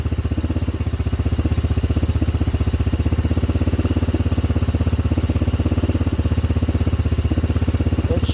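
A revived pit bike engine idling close by, a loud, steady, rapid putter with a clattery mechanical texture that holds evenly throughout without any talking.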